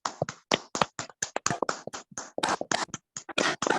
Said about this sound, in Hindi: सभी लोग एक बार हाथ खोल करके और माइक अनम्यूट करके ताली बजाएंगे सर